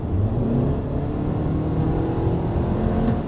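An Audi A6 C8 with a 2.0 TFSI engine accelerates hard, its engine note droning steadily and loudly from inside the car, with no pauses.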